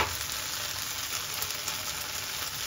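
Ginger, garlic and spices fry in an oiled pan for a Bangladeshi tangra fish and eggplant curry, giving a steady, close, even sizzle with no talk.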